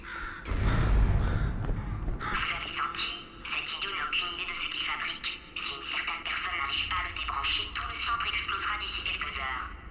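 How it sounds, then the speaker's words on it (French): A bird character in the video game Portal 2 squawks and caws repeatedly in a harsh, raspy run, with a low rumble and voices beneath it. "Aïe, cet oiseau."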